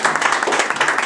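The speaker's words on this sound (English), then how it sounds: "Please clap for her." An audience claps steadily at a career-building workshop held by the Nigerian community in Ternopil, Ukraine, with a dense, continuous patter of many hands at close range throughout.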